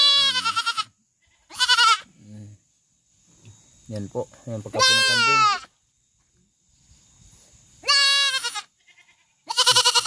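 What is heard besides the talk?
goat bleating during castration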